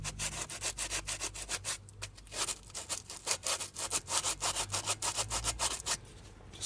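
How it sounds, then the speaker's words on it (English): Sandpaper rubbed by hand over car brake mounting surfaces during a Volvo front disc and pad replacement, a steady series of quick back-and-forth scratching strokes, close and moderately loud with no talking. "Just giving it a quick once over with the sandpaper, just in case there's any burrs, anything sticking out"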